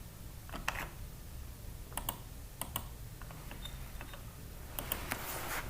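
Fingers tap a computer keyboard in quiet, sparse bursts of light clicks, faint and close, with short pauses between groups of keystrokes.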